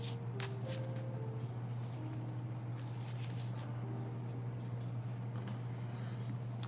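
Sonia Choquette Ask Your Guide oracle cards being shuffled, a soft continuous riffling rustle under a steady low hum, with faint background tones.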